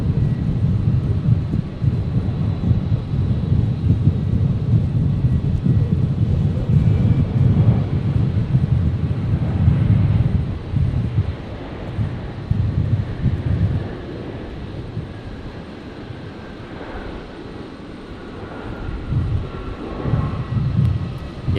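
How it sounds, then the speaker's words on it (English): Qatar Airways flight 898 from Doha, a Boeing 777 airliner, touches down at Brisbane Airport with a loud, rushing roar that swells, then gradually eases off, mixed with gusts of wind. "Qatar. 898 touching down from Doha"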